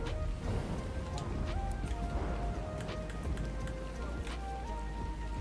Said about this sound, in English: The hell, this rain, it's been going for ages.